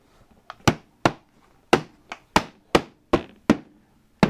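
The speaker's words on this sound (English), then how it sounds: "the proper way is to put your knee on the bucket and hit down each of the 4 corners" A rubber hammer strikes a plastic bucket lid in a sharp run of about nine close, dry knocks at an uneven steady pace, sealing the lid onto the bucket.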